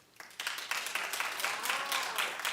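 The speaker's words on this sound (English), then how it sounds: "clap if you still watch" A studio audience on a daytime talk show claps steadily on its own, a dense rattle that swells quickly after a brief near-silent start and keeps going at a fairly even level.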